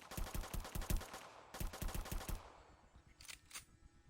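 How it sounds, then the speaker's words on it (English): Gun sound effects made for the zombie game Zombie and the One Hand Army: two rapid bursts of sharp, evenly spaced shots, followed by a quieter pause and a couple of lighter, bright clicks or hit sounds near the end. "I also did sound effects for the guns"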